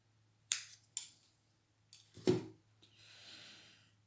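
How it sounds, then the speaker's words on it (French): Two crisp scissor snips cut crochet yarn in a quiet room, followed by faint rustling and a soft breathy hiss. "je vais couper mon fil."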